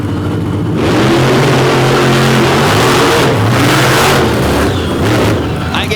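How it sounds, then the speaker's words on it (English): Two big Chevrolet Silverado trucks thunder down a drag strip in a final-round race, engines roaring loud and steady with rising revs, while a voice talks over the din. "a heck of a final round race between the two big Silverados, one from Pennsylvania, one from Virginia"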